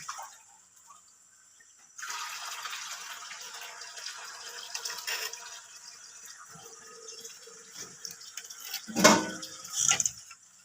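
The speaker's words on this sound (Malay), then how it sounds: "Kita terpaksa tambah lagi dia punya air." Water is poured into a pot of simmering fish curry, a steady splashing, trickling fill that begins abruptly and runs for several seconds, ending with a couple of louder sloshes.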